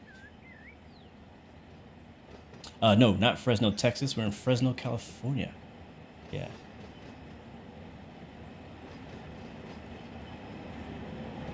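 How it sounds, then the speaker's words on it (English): Union Pacific train passing in the Run 8 train simulator game near Fresno, California, a low continuous rail rumble in the background while people talk over it. "that Union Pacific train up there on the other side."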